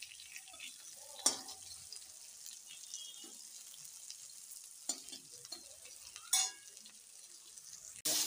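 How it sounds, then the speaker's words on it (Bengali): Potatoes frying with salt in a pan, a soft, continuous sizzle broken by a few sharp stirring scrapes, close and alone without talk. "আলুটা লাল করে ভাজা হয়ে গেছে"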